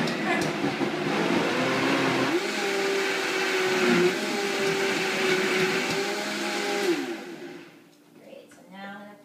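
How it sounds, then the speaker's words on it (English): A blender runs steadily at high speed, whirring through spinach and other greens for a green smoothie, loud and continuous before cutting off near the end, followed by brief faint sounds. "Blending them first. Start to see why it's important to have a good blender."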